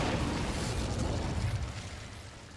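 An Incendio fire spell is cast in Hogwarts Legacy, giving a loud, sustained whooshing roar of flame that fades toward the end.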